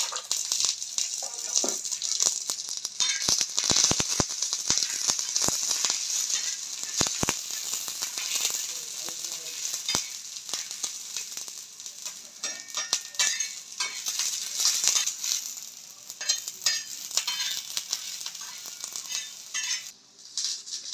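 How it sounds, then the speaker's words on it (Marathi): Grated coconut frying in hot oil with garlic and ginger, a steady bright sizzle with scattered scraping and clinking of a spoon stirring the pan, close and continuous without talk. "आता खोबरे त्याच्यात तेल टाकते आणि ते पण तळून घेते"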